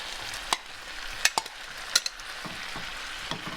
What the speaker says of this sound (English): Now I want to add my tomatoes because my peppers and onions are turning soft.